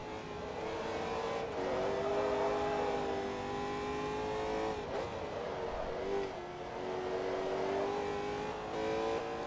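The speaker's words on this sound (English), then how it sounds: "I'm really enjoying driving this car. It's very nice, it's very planted, it's very powerful" A sports car engine in the Forza Motorsport 2 racing game drones steadily at high revs, its pitch climbing and dropping through gear changes, with a brief dip near the middle and no talk over it.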